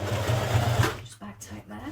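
A sewing machine stitches a dress vent in a fast, buzzing run for about a second, then stops, leaving a few faint clicks and handling noises.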